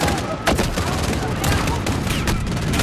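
Dense Call of Duty Modern Warfare gunfire in the Urzikstan campaign: continuous rapid shots and bursts, loud and close, with no talk over them.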